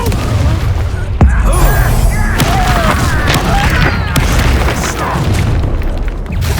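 Fire-spell explosions boom through a Hogwarts Legacy battle, one sharp blast followed by rumbling bursts and crackling effects over a low, continuous roar, with voices calling out amid the combat.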